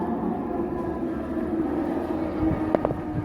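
Low rumbling of a train passing about 8 feet away, steady and rolling, with a few metallic clanks and squeals near the end.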